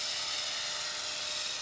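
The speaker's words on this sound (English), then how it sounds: "I'm ready for a maiden FPV flight as soon as this heli has landed." An RC helicopter flies over a model airfield, its steady high-pitched rotor whine constant and fairly loud throughout, with no talking.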